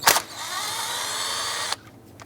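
A power tool with a 12mm socket and swivel spins a bolt out on a 2005-2009 Subaru Outback during a power steering pump replacement, giving a brief sharp start, then a steady whirring buzz that stops abruptly, close up.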